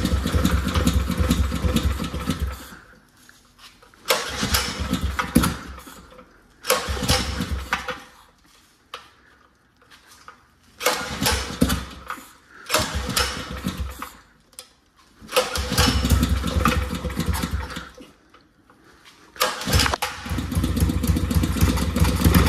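A Predator 459 small engine in a VF-1 kart is started on choke after sitting unused for over a week. Several loud, close bursts of engine noise are separated by short silent gaps as it catches, stalls and fires again.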